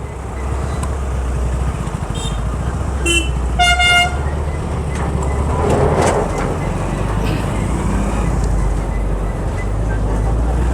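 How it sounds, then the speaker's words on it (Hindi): Busy city road traffic in Chhatarpur, Delhi, heard from a moving ride, with a constant loud engine and road rumble and a cluster of car horn toots honking near the middle. "तो यहाँ पर थोड़ा सा ट्रैफिक लग रहा है"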